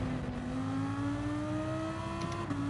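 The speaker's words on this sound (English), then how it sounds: "Over revving in 5th gear to listen to that amazing V10 engine from the Lamborghini." Lamborghini V10 engine in Gran Turismo 7, held at high revs in fifth gear during a GT3 lobby race, with a steady loud whine that climbs slowly in pitch and stays sustained throughout, with no talk.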